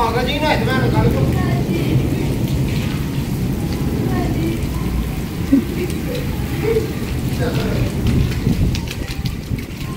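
Heavy rain pouring steadily on surfaces outdoors during a hot spell, a dense continuous wash with voices talking throughout; no distinct thunder stands out.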